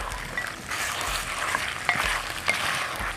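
Pork ribs stir-fried in a pot for a cauliflower and pork rib curry produce a steady sizzle with a few scraping and clacking stirs near the pan, with no talking.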